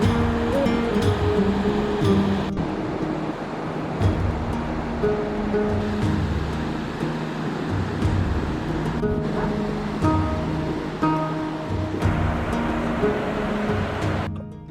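Ocean waves at the beach, a continuous loud surf roar with rolling swells and wind buffeting the microphone, with no talking.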